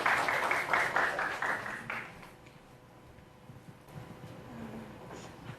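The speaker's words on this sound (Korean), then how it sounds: "우리 박수로 환영해 주시기 바랍니다" Brief applause from a church seminar audience welcoming a deacon forward, loud clapping for about two seconds that quickly fades into quiet room tone with faint murmurs.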